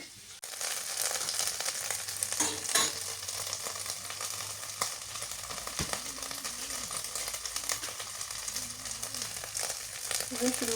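Chillies, onion and spice paste for beef curry sizzle and crackle steadily in hot oil in a pan, a continuous close frying hiss with occasional stirring scrapes and no talking.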